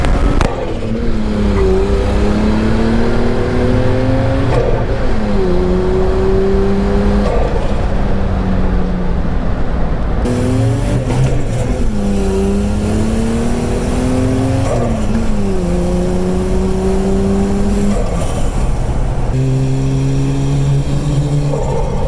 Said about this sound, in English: now we're gonna go take it for a little test drive.